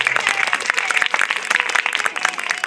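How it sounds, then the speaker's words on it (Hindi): An audience at a religious katha gathering claps loudly, a dense, continuous burst of applause filling the space, with a faint voice under it. "जोरदार तालियां सभी लोग बजाओ"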